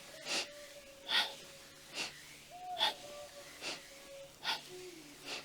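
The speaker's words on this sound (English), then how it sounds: "Quite an energizing breath as you breathe through the nose." Forceful yoga breathing through the nose, done in a spine-focused flow sequence: repeated sharp, airy breaths about once a second, fairly close and moderately loud, with faint background tones and no talking.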